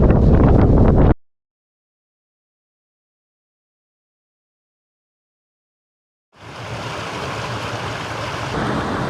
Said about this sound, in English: just a tad windy right now.